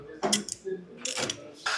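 Ratchet wrench with a swivel socket working on oil pump bolts of a Genesis GV70 front motor, a few quick close clicking bursts with short pauses between them.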